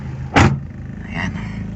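A car engine idles at around 800 RPM with an AC idle-up switch fitted, a low steady hum broken early by a brief loud thump close by.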